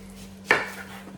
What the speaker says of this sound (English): there you can see is an onion. I've topped and tailed it, and I'm gonna split this in half